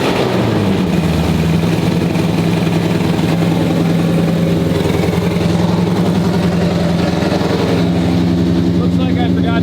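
Supercharged 2021 Ford Mustang Mach 1 engine with a Whipple supercharger and Kooks long tube headers, running with no exhaust hooked up, a loud, steady, close rumbling idle with a whining layer that lasts throughout.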